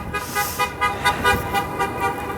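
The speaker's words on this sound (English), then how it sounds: "New York City drivers communicate by honking." Car horns honk repeatedly in New York City traffic, short overlapping toots in an irregular rhythm over a steady roadway rumble, moderately loud and close to the street.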